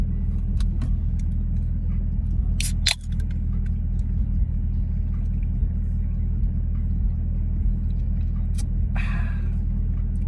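A 2017 Chevrolet Camaro ZL1 fitted with a RotoFab intake drives along, its engine rumbling steadily and loudly from inside the car, with a few brief clicks and rattles over the drone.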